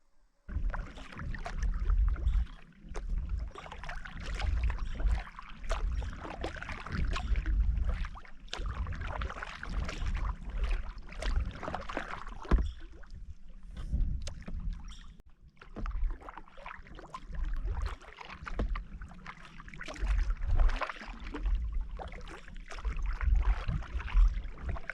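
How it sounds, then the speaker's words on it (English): Canoe paddled on a forested mountain lake, rhythmic close splashes and strokes with soft water swishes repeating steadily throughout, no talking. "I'll paddle around the end and get out of their way."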